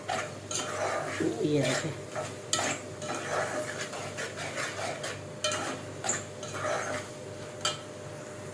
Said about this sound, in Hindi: फिर भी मैं इसे भून रही हूँ